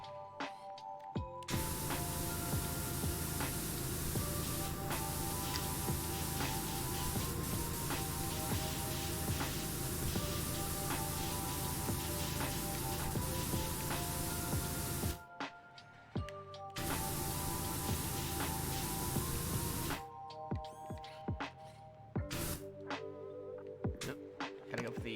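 A pressure washer in the PowerWash Simulator video game sprays in a long, steady hiss over background music, cutting out briefly twice before resuming.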